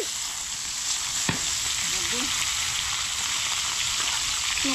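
Dried danggit fish fries in a pan with a loud, steady crackling sizzle and a few brief clinks of a utensil, heard up close with no talking.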